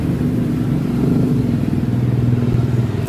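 A Yamaha Mio i125 scooter engine runs close by with a steady low throbbing idle and shaky, vibrating rattle, heard on its own with no talk.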